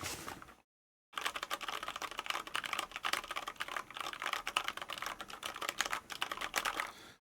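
Fast, loud clatter of a clicky mechanical computer keyboard, dense rapid keystrokes close to the mic after a brief silent gap, sustained almost to the end with no talk.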